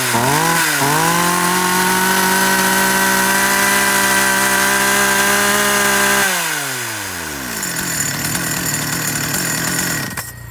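A DX5 52cc gasoline chainsaw weighing about 6 kg runs loud and close, holding a high steady roar before the engine winds down to a lower rattling idle.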